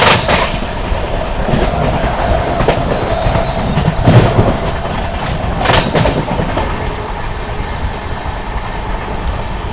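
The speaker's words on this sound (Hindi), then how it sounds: "चले यहाँ पर अपनी महामोदी एक्सप्रेस दोस्तों स्किप कर रही है शिकोहाबाद जंक्शन को" Mahabodhi Express rolling through Shikohabad Junction without stopping, a steady loud rumble of wheels and carriages with rhythmic clacks over rail joints and occasional sharp bangs, continuous throughout.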